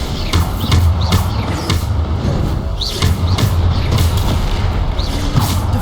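Repeated Bombarda spell explosions from Hogwarts Legacy, heavy booming blasts landing in quick succession over a dense, continuous wash of combat noise.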